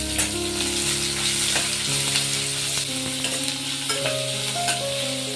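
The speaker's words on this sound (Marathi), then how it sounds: "कांदा चांगला मऊ करून घेते मी" Onion softening in hot oil for dahi tadka, with salt added, giving a loud, steady frying sizzle with occasional stirring scrapes close by and no speech.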